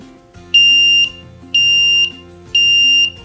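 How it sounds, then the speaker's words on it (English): Three loud electronic beeps from an Arduino-based electronic lock, each about half a second long, sound at even one-second intervals, high-pitched and steady with nothing else around them. "So now as you can see it's beeping again"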